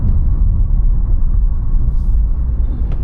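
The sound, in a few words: car engine climbing an uphill forest road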